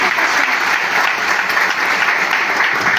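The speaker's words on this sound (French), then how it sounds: "Je vous demande de nous applaudir." A crowd applauds at a political rally of the PDCI in Abengourou with dense, loud, continuous clapping that holds steady throughout.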